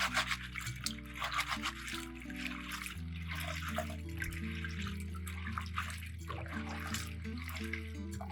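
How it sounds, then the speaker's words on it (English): Running tap water rinses lychee peels in a bowl, a soft continuous trickle and splash heard faintly beneath a melodic music backing throughout. "rinse the peels with clean water several times until the water runs clear"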